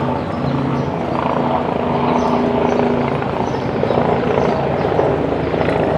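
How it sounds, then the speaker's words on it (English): A helicopter drones steadily overhead above Central Park, its rotor chop a constant, fairly loud rumble that fills the whole stretch without fading. "Sorry, helicopter."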